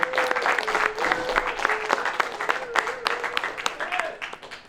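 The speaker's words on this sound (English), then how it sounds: "Should we give Helen a big round of applause?" A small audience at a glassblowing demonstration claps and applauds for several seconds, steady and fairly close, with a voice speaking faintly underneath.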